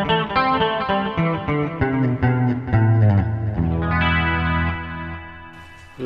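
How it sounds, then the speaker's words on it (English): Clean electric guitar played through a Zoom 3030 multi-effects unit on a soft solo patch without distortion, a melodic line of sustained notes with chorus-like shimmer, steady and upfront. "Like a lead guitar, but without distortion, for you know, like melodic things"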